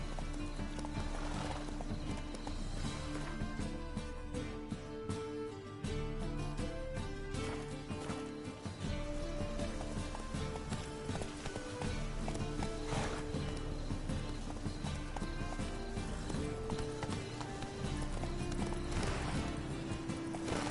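Video game horse Roach galloping, a steady rapid clip-clop of hooves with occasional neighs, loud and continuous over game music.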